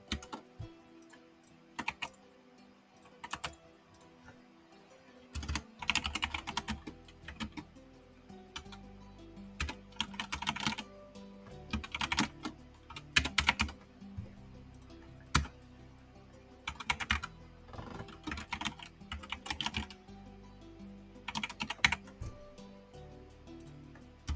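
Keys clatter steadily on a computer keyboard while code is typed, in quick irregular bursts with brief pauses, close and fairly clear after a quiet opening of a few seconds.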